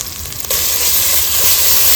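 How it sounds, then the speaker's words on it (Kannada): Ginger garlic paste hitting hot oil with chillies and curry leaves for a spicy pork and potato curry, a sudden loud, close sizzle that bursts in and holds as a bright steady hiss, no speech. "ಹಸಿ ವಾಸನೆ ಹೋಗುವವರೆಗೆ ಚೆನ್ನಾಗಿ ಫ್ರೈ ಮಾಡ್ಕೊಳ್ಬೇಕು."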